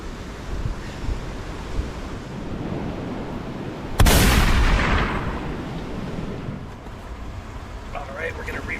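Big ocean waves roll on a windy Sonoma County coast, under a constant roar of wind buffeting the microphone. A loud wave crashes about midway and fades into a long wash.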